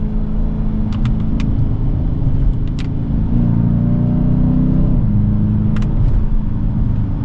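A 2023 Dodge Challenger R/T heads downhill under braking, its engine a loud, steady low rumble inside the cabin that shifts in pitch midway, with faint ticks and clicks over it.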